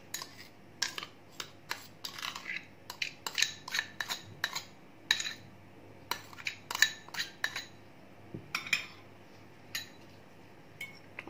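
Repeated clinks and scrapes of a spoon against a bowl as mashed boiled eggs are stirred together with black pepper, salt and mayonnaise, an irregular run of sharp close taps with no talking.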